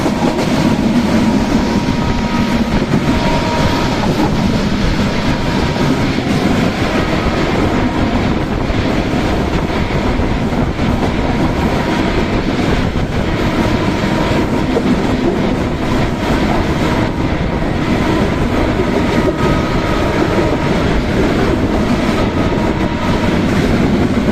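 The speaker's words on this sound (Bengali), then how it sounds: "এত দ্রুত গতিতে ট্রেন যাচ্ছে" Kurigram Express running at high speed, a loud continuous roar with rattling wheels and clattering carriages, steady throughout with no talking.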